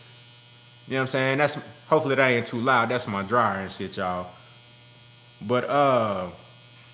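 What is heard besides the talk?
clothes dryer running and humming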